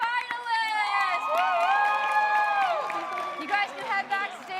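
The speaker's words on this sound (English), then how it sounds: "a round of applause for our finalists" An audience at a competition applauds and cheers for the finalists, a loud crowd roar of clapping, whoops and high shouting voices that holds steady for several seconds.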